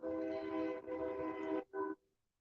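A loud train horn blares in a long sustained blast, pauses briefly, then sounds a second shorter blast before cutting off.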